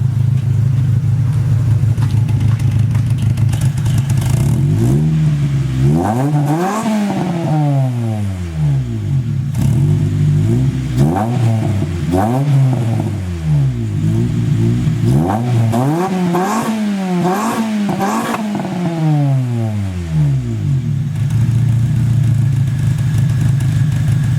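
A car idles loudly through a newly installed exhaust with no headers, then revs hard in a series of rising and falling bursts, about five or six sweeps in two clusters, before settling back to a steady idle.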